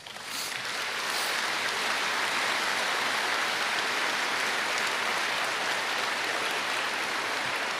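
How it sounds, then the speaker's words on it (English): A large crowd at a memorial service for a fallen Pierce County deputy breaks into loud, sustained applause for the widows of fallen officers. The dense clapping holds steady throughout with no talk. "Let's give them a round of applause."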